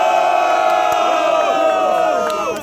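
A packed crowd at a Brazilian rap battle cheers, whoops and shouts in a loud, sustained roar, with many voices swirling at once throughout.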